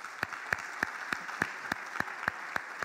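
A church congregation claps in steady, evenly spaced bursts, roughly three per second, sharp and fairly close against a soft room hum, with no voices over it.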